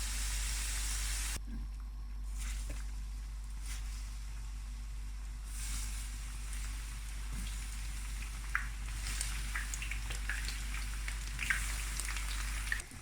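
Continuous soft sizzling and popping of eggplant frying in hot oil, quiet and steady, with occasional crackles and no voices.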